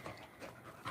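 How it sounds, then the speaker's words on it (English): An Australian cattle dog pants close by in quick, steady breaths, with nothing else heard. "We're visiting my friend's Australian cattle dog."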